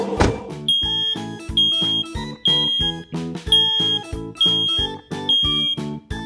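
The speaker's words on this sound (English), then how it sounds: "when we hear a smoke alarm go off, we need to get out of the building" A smoke alarm shrieks in loud, repeated piercing beeps, pulsing in a steady rhythm with brief gaps between blasts.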